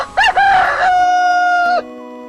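A rooster crows once, loud and close, in a single long, harmonic cock-a-doodle-doo that rises, holds steady and then breaks off, with no other sound around it.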